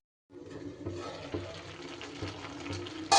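A small amount of water is poured into a cooking pot of mixed vegetables for a vegetarian labra, a steady splashing pour that starts abruptly and runs for about three seconds, close and fairly loud.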